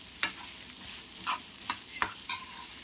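Boiled horse gram is stirred in a hot pan: a soft sizzle runs under a few brief scraping strokes of a spoon, close and fairly quiet, with no talking.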